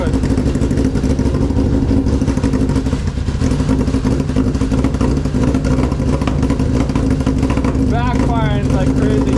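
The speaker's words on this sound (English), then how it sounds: "Carburetor on this Skidoo has to be clean, like, bad, like, this doesn't even want to run" A Ski-Doo snowmobile engine that has just been cold-started runs rough with a dirty carburetor, a loud, continuous, uneven rumble with sputtering and backfires, heard up close with a voice briefly audible over it.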